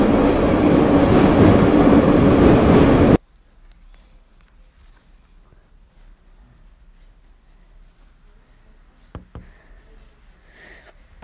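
A loud, rumbling video game subway train departing roars for about three seconds, then cuts off abruptly to near silence with a few faint clicks.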